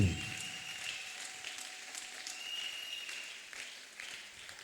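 A church congregation applauds together, a steady broadband clapping that swells at the start and carries on fairly evenly for several seconds, with no voices over it.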